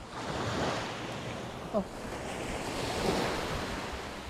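Ocean waves wash steadily against a coastline during shore squid fishing, a continuous surf roar with wind noise on the microphone.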